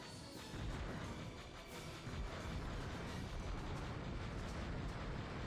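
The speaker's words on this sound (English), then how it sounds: "They don't blow up, but they send fireworks out" Fallen AT-AT walkers spray fireworks from their necks during the Battle of Hoth in the Star Wars: Shadows of the Empire game, a dense, continuous roar of crackling bursts and booms filling the whole clip with no talk.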